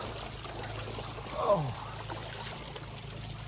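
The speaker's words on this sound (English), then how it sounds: "You can see how much water is still flowing over the top of this." Water spilling from a lake over the top of an overflow trench at least two inches deep, a continuous low rushing wash throughout, with one short spoken exclamation partway through.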